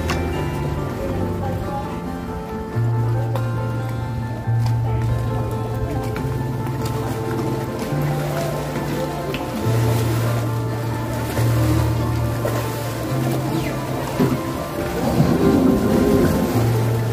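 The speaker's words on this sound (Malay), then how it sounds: "bot meninggalkan jeti Pulau Toba menuju ke jeti Datuk Syekh Omar di Pekan Kuah" A boat's engine drones steadily over lapping water as it leaves the Pulau Toba jetty in Langkawi, a low throbbing hum that swells slightly near the end.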